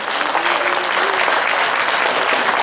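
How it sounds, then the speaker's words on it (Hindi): Loud, sustained applause from an audience at a Hindi poetry gathering (kavi sammelan), dense clapping filling the whole stretch without a break. "जोरदार ताली है।"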